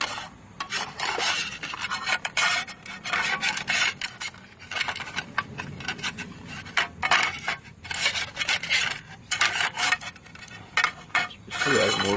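Folding camping cookware is handled up close: a small skillet with a fold-in handle scrapes, rubs and clatters in irregular bursts of metallic friction and light knocks.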